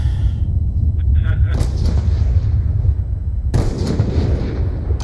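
Heavy gunshots in a 1v1 video game match, two loud booming blasts a couple of seconds apart over a constant low rumble, with players talking around them.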